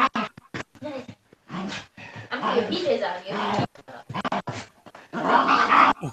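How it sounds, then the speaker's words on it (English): A dog growls, yips and barks in short bursts while playing, close by and mixed with people talking over it. "Oh, Samantha playing with the dog"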